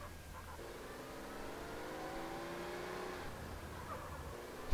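Street race cars in GTA San Andreas hum and rev at a moderate distance, a steady engine drone with a faint rising push near the end, alone without talk.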